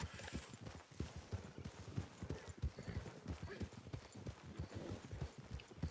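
Horses in the RedM western video game gallop in a rapid, uneven drumming of hooves, fairly quiet and steady throughout, with a voice faintly audible underneath.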